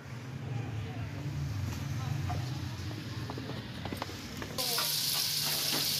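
Onions and tomatoes sautéing in a pan for dahi kadhi, a steady close sizzle with stirring scrapes throughout that grows brighter and louder near the end, while voices talk over it.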